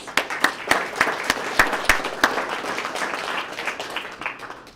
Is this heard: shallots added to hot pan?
no